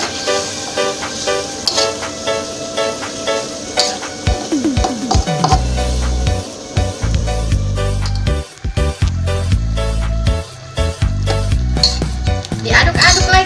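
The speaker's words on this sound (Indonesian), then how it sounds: "Kita aduk dulu." Rica-rica chicken cooks in a pan with added water while a utensil stirs it, making repeated scraping and clattering strokes over a constant loud sizzle; background music plays in time with the stirring.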